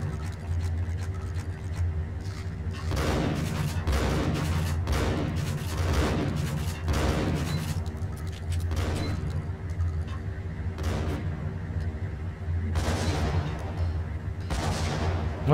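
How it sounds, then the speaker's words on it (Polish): Repeated shotgun blasts fired at a boss character in the video game Max Payne, sounding as loud, sharp booms roughly once a second and then at wider gaps, over a steady low game rumble. "przyjmuje strzały z shotguna na klatkę"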